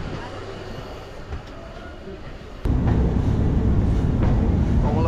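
The Ruposhi Bangla Express pulls out of Kamalapur station, heard from inside as a low rumble that suddenly swells into loud, steady rolling clatter, with faint voices in the background.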